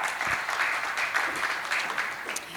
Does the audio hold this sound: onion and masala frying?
no